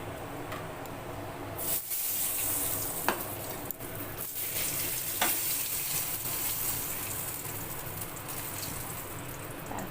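Bay leaves dropped into hot oil just used for frying fish crackle and sizzle loudly, with spitting pops and stirring over a dense, continuous frying hiss.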